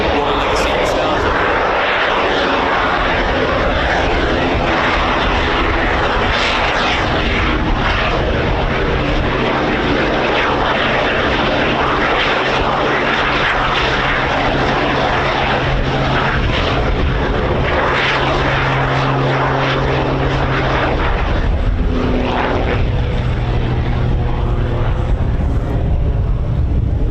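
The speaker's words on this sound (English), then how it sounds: "a very close coupled aeroplane, which makes it very suitable for doing these flick rolls" A Pitts Special, a close-coupled aerobatic biplane, drones loudly through flick rolls at an airshow, its engine note rising and falling continuously under heavy wind buffeting, with a commentator talking over it.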